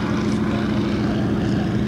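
A Stearman PT-17 biplane at an airshow drones steadily and loudly, its radial engine and propeller giving a continuous rough roar with no break and no talk.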